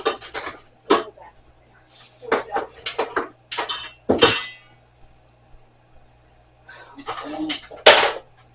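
A mixing bowl being set back onto its stand in a kitchen, with several sharp metallic clanks and clatters in irregular bursts, close by, and people talking between them.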